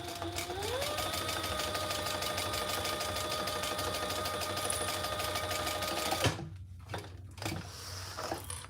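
A sewing machine with an industrial needle sews a seam in one continuous, steady mechanical hum with a rising motor pitch at the start, then stops abruptly, leaving a few light clicks and handling sounds.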